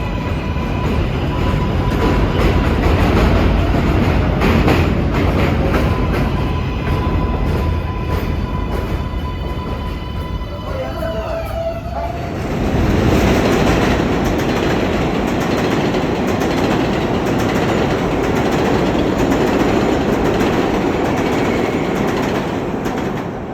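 An eastbound local train on the NYC 7 line passes at close range, a loud continuous rumble of wheels and motors that swells, dips briefly midway, then roars on again with a clicking rhythm of rail joints.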